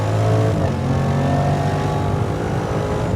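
A Jaguar F-PACE SVR engine roars and accelerates loudly up close, steady and strong throughout with a revving quality.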